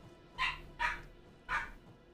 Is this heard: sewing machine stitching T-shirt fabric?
no